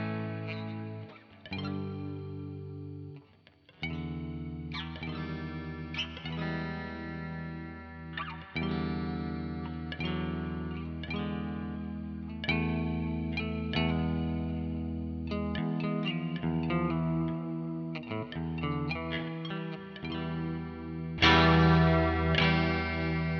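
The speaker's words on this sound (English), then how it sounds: "if we start to hit it a little harder, kind of get some crunchiness just like a real tube amp" An electric guitar played through a free amp simulator plugin with a crunchy, tube-like overdrive and reverb rings out in chords and melodic notes that sustain and decay for over twenty seconds, with no talking.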